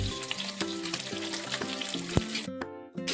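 Amudi fish sizzles and fries in hot oil in a home kitchen, a steady crackling hiss with occasional clinks of a utensil, close up and continuous, briefly quieting near the end.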